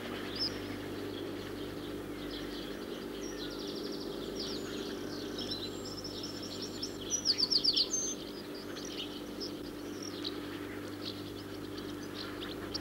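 Tits call in a back garden with a brief, bright cluster of chirps about halfway through, faint against a steady low background hum, with no talking.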